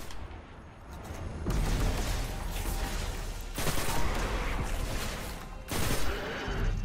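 Rapid automatic weapon fire in a video game rattles loud and continuous in sustained bursts, with brief lulls between volleys and no voices over it.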